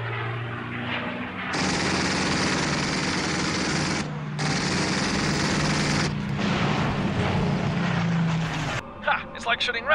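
Jet fighter cannons fire as a comedy sound effect in a British parody of Top Gun: long sustained bursts of rapid gunfire with a roaring jet engine underneath, cut off sharply a few times and then trailing away.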